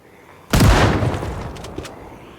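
A single loud shotgun blast from the zombie survival video game Project Zomboid. It has an abrupt booming onset and a rumbling tail that fades over about two seconds.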